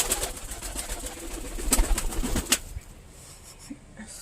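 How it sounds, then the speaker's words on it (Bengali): A pigeon coos close by in a loft, soft throaty calls mixed with sharp rustles and wing or foot scuffs that fade into quieter background. "দেখো দেখো এখানে পায়রা"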